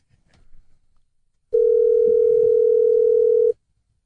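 A single steady telephone tone sounds for about two seconds after a short soft noise, then cuts off into silence.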